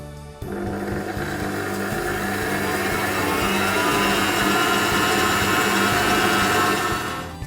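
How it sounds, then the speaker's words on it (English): An electric mixer whisks egg whites and sugar toward soft peaks, a loud steady whirring drone that starts abruptly and holds evenly for several seconds before tapering off, with no talking. "we want to whisk this for a further 2 to 3 minutes until we reach the soft peak stage"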